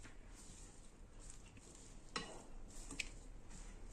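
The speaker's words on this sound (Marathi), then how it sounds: "तर चला आता याला मिक्स करून घेऊ छान" A spoon stirring corn chaat salad with salt and lemon juice, soft scraping and occasional light clinks against the bowl, close and quiet with no speech.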